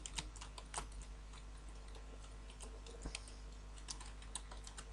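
Rapid clicking of computer keyboard keys as code is typed into a Unity 3D C# script, a steady run of close, fairly quiet keystrokes with a few louder taps and no talking.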